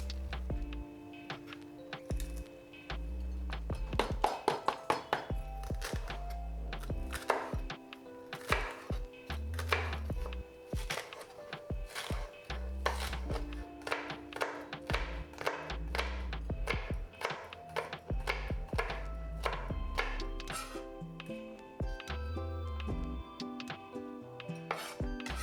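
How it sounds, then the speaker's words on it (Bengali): A knife chopping washed, seeded capsicum into small square pieces on a board, a long run of crisp, closely spaced taps with scattered louder clacks and irregular rhythm, heard alone. "ক্যাপসিকামের দানা ফেলে খুব ছোট ছোট ও চৌকো করে কেটে নিতে হবে"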